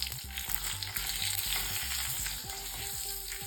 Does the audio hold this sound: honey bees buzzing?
no